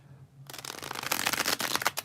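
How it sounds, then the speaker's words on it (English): A deck of tarot cards gets a bridge shuffle: a quiet start, then a fast crisp riffle of cards flicking together, close and loud, ending in a soft settle. "Gotta love the sound of a newly bridge shuffled deck"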